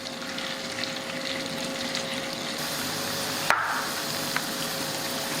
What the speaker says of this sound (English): we're gonna go ahead and start throwing in some of the tripas into the oil